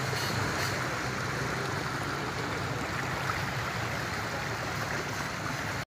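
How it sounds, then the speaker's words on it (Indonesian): A large river swollen after a flash flood rushes past in a steady, loud, broadband roar of churning water that continues without a break and without voices. "Nah, ini sungai besar."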